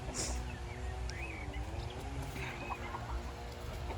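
Chickens cluck softly and intermittently over a low, steady background noise, fairly quiet and somewhat distant.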